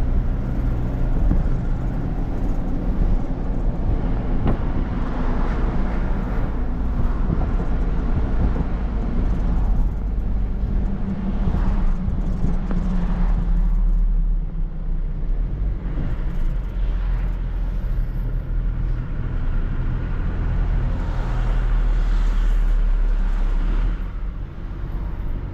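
A 1997 Ford F1000 pickup with a straight exhaust and 33-inch tyres runs close by, its engine giving a steady deep rumble that swells and eases with revs, loud and continuous with no talking.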